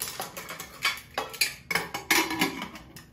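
A pressure cooker lid being set in place and closed while making restaurant-style tomato soup with beetroot, giving a series of close metallic clanks and scrapes of steel cookware in a quiet kitchen.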